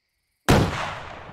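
A rocket explosion in the video game ARMA 3, a single sudden loud blast after a moment of silence, followed by a booming rumble that slowly fades.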